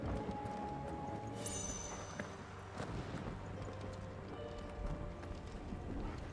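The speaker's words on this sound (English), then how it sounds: "All six-legged horses, so it's all Sleipnirs." Six-legged horses galloping in the video game Final Fantasy 16, a continuous drumming of clip-clopping hooves with a brief whinny-like cry, quiet and steady.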